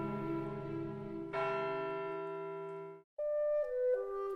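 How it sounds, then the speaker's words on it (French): Church bells of the Villars church ring out one after another, sustained metallic tones with long shimmering overtones, a brief gap, then a higher bell strikes in steps, clear and fairly close. "les cloches de l'église de Villars."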